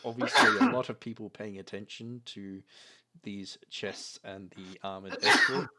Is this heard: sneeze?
yes